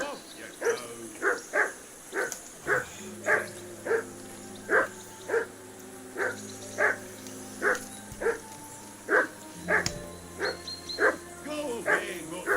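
A dog barks in the video game Kingdom Come II, a steady series of about twenty sharp, evenly spaced barks at mid distance, with a low ambient hum and game sounds underneath.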